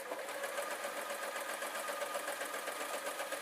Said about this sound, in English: get it in the machine and sew again